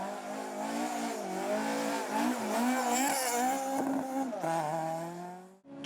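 A two-wheel-drive rally car spins through a pirouette on a gravel stage in front of fans at a rally in Sligo, its engine revving hard and wavering in pitch with tire scrabble, close and loud throughout.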